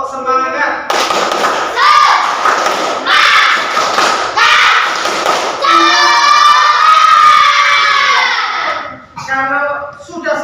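Students in an Indonesian classroom perform a rhythmic group clapping routine, loud bursts of claps in patterned beats mixed with children chanting and shouting along.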